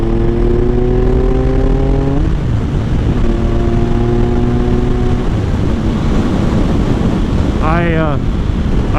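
Three-cylinder motorcycle engine revving in rising steps, dropping back to idle, then a sharp blip of throttle near the end, close by with wind buffeting the microphone.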